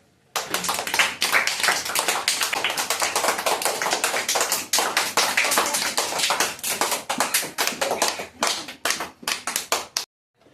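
Students in a classroom clap together in a dense, steady burst of hand claps lasting about ten seconds, loud and close, then stopping abruptly.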